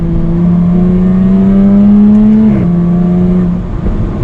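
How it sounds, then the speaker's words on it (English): A supercharged 2021 Jaguar F-Type R-Dynamic engine revs hard and close in dynamic mode, its deep growl climbing in pitch, then dropping sharply before settling back to a steady drone. "you hear a little bit from that engine"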